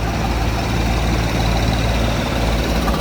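A Mahindra Arjun Novo tractor engine is held at full throttle while stationary, a loud, steady, dense diesel roar with no pause or change in pitch.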